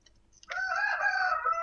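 Rooster crowing nearby, a single loud cock-a-doodle-doo that starts after a brief quiet lead-in and rings out clearly on its own.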